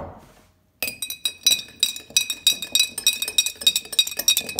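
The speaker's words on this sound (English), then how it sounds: "this time I'm going to make sure that my stirring action is the same" Spoon clinking rapidly against a glass while stirring a solution, a bright, near series of repeated tinkling taps in a steady rhythm after a short quiet pause.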